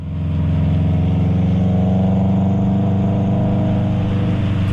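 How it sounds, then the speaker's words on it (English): A Subaru's horizontally opposed boxer engine with unequal length headers idles at a club meet, producing a loud, close, steady throbbing rumble that holds evenly for several seconds. "The Subaru's horizontally opposed boxer engine and unequal length headers give it that classic Subaru rumble"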